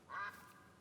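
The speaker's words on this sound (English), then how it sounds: "I'm going to end up spooking these ducks and watch it be the duck we're looking for too." A single short, faint quack from a wigeon duck in a hunting video game, a brief nasal call with a quiet background.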